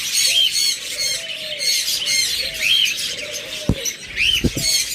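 Budgerigars at a breeding farm, including albino and lutino birds, chirp and squawk in busy overlapping calls, close and fairly loud. A few sharp clicks or taps come near the end.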